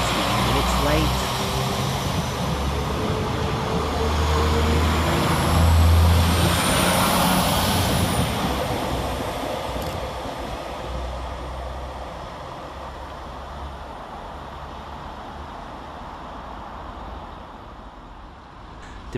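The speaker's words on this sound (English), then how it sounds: "we see the departure of 195008 and 195011, with the 1433 Northern service from Chester to Leeds departing 16 minutes late" Northern service trains, units 195008 and 195011 on the Chester to Leeds route, departing Bramley station in West Yorkshire: a steady broad engine and rail roar that swells around the middle and then slowly fades as they pull away.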